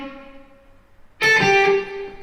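An electric guitar rips through a fast pentatonic blues lick using economy picking, a sudden burst of bright, slightly distorted notes after a fading held tone, loud and close with no talking.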